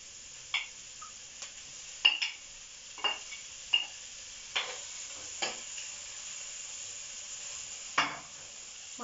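Fish with curry leaves frying in hot oil for a Sri Lankan fish shawarma: a steady, faint sizzle broken by scattered scraping stirs and taps of a utensil, with no talk.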